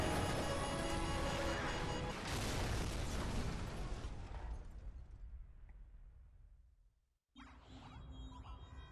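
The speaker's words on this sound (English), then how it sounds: "the nuke's gone off" A nuclear blast in Call of Duty 4: Modern Warfare roars as a loud, dense rumble that slowly fades to near silence, then a sharp new burst of noise cuts back in.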